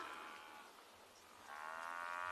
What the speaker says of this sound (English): I suppose I can't call it anything apart from mooing of these buffalo